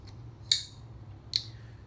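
Two sharp metallic clicks about a second apart, a Zero Tolerance 0562ti milled titanium folding knife blade snapping shut, crisp and close against a quiet low hum.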